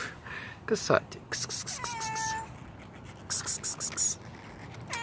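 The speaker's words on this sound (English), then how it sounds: "Here's my cat." A house cat meows a couple of times, short and close, among bursts of scratching and rustling, with soft human speech mixed in.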